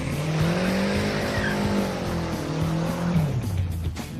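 Turbocharged, fuel-injected five-speed minivan doing a burnout: a loud engine revs and howls as the tires squeal continuously, with the pitch rising and falling over several seconds, recorded from inside or close by.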